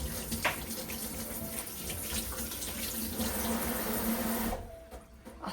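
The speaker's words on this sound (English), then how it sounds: "I thought I'll film the process of me washing my hands" Tap water runs steadily into a sink as hands are washed, a continuous splashing rush that drops off abruptly near the end.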